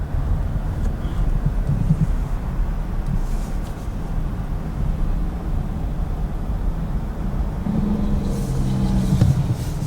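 A 2019 Volkswagen Jetta SEL Premium drives around a tight turning circle, heard from inside as a continuous low road and engine rumble with some wind noise, steady and moderately loud.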